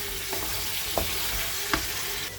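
Spice paste of cumin and coriander with turmeric sautéing in a pan, a steady low sizzle broken by a few soft stirring scrapes, close and alone with no voices.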